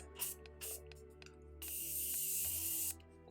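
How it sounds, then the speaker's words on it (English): Morphe Continuous Prep and Set Mist sprays from a pump bottle in two short close puffs, followed by one longer sustained hissing spray, loud and near. "So this is the Continuous Prep and Set Mist from Morphe."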